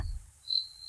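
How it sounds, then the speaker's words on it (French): Crickets chirp at night in a steady high trill on a lonely road, faint and continuous, rising briefly louder after a low thump at the start. "c'était le chant des grillons."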